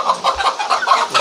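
A small chicken clucks in a quick string of short, close, fairly loud bursts with brief gaps between them, and no voices over it.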